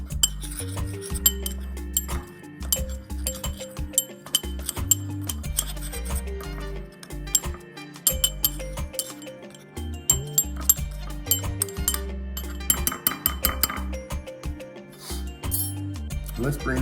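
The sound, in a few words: stirring and combining fish seasonings in a bowl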